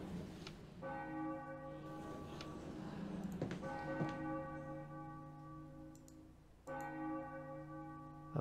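A church bell rings in a spooky adventure puzzle game setting, three separate resonant strikes spaced a few seconds apart, each ringing out and slowly decaying over a quiet ambient background.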